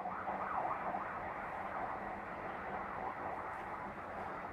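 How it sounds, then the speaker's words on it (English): A wailing police car siren rises and falls with a warbling tone at moderate volume, sounding somewhat distant and steady beneath a wash of background noise, with no clear talk. "I think that's a police car"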